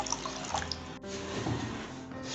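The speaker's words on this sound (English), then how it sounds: "Add water as required." Water poured into a cooking pot for a spiced chicken curry with bamboo shoot juice, red chili powder and ginger, a steady close splashing pour lasting a couple of seconds without talk.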